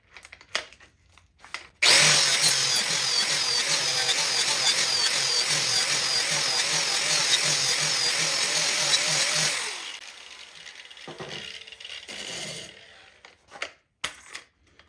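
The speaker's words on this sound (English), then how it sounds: "We're going to add that to the grinder." Angle grinder fitted with an interleaf flap disc grinding steel, a loud steady whine with rough grinding texture lasting about eight seconds before spinning down, followed by quieter handling noises.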